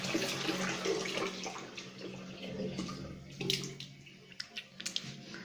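Cold water runs from a tap at home during winter, a steady splashing rush that fades toward the end into scattered drips and small clinks.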